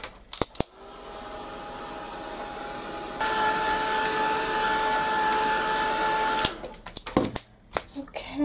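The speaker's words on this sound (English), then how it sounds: "I'm going to give it a quick blast with the heat gun" Heat gun blowing hot air onto craft card, a steady whirring blower hum that starts abruptly, rises in pitch partway through, runs for several seconds, then cuts off, followed by faint handling sounds.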